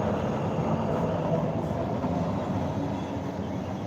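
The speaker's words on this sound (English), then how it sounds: "There's a maintenance of way truck going down the track." A rail maintenance-of-way truck rolls along the track in the rain, a steady, fairly loud rumble that holds without a break throughout.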